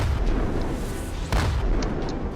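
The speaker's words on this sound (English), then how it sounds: "we're going to go ahead and open fire on this cruiser right here" Heavy ship guns blast at an enemy cruiser in the Roblox game Project Stardust, with Halo-style warships. A few booming shots land over a dense, continuous rumble of battle.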